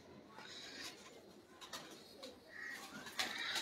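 Pigeons coo softly at a loft of champion Punjab flying pigeons, a few faint low calls under steady background noise with some brief chirps.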